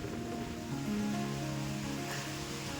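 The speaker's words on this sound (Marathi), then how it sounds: "लाटा कशा काय येतात" Sea waves wash steadily onto Chivla beach at Malvan in strong wind and stormy weather, a faint, continuous surf roar with no voices.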